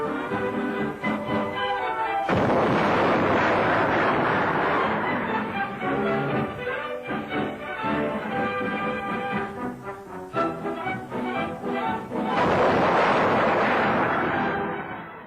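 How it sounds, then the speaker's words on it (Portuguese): Depth charges exploding in the ocean in a 1942 WWII newsreel, heavy booming blasts that rise and roll on behind a narrator's voice. "No oceano, bombas de profundidade são lançadas."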